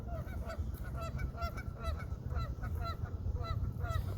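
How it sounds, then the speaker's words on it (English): Geese and other waterfowl honk repeatedly in a renovated city park, a steady run of overlapping calls close by against a constant background hum, with no one talking. "Even the waterfowl is happy."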